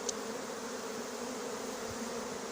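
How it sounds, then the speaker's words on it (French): Swarm of honey bees being collected, a steady, continuous buzzing hum that sounds close and moderately loud, with no talk. "Un bel essaim"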